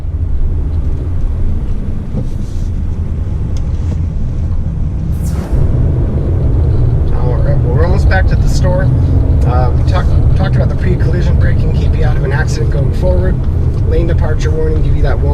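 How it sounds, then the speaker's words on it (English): A 2019 Subaru Crosstrek rolls over dirt and gravel, with a steady low road rumble and tire noise filling the cabin under continuous talking. "just a really smooth ride considering I'm driving on dirt and gravel right now"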